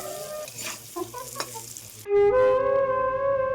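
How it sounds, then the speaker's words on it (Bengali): Potatoes fry in a pan with close spatters and scraping stirs for about two seconds, then a loud steady tonal drone takes over while the sizzle continues faintly beneath. "আলু এখন ভাজা চলে"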